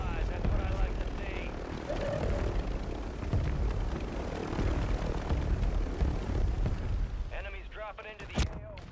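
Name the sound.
helicopter flying in a video game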